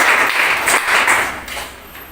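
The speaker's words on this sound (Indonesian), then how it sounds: "Oke, tepuk tangan" A class applauding in a classroom lesson, with a short burst of loud, close clapping that fades away within about two seconds, and no talking over it.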